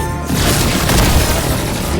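Naruto's skill sets off an explosion in the video game Anime Vanguards, a loud, close booming blast that hits sharply after a brief lead-in and rumbles on to the end.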